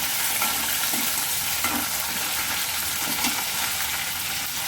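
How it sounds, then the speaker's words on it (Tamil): Curry leaves sauté in hot oil with whole shallots for a kuzhambu, a steady close sizzle with faint scraping stirs throughout, no voices. "கொஞ்சம் கருவேப்பிலை போட்டு வதக்கிக்கலாம் நல்லா"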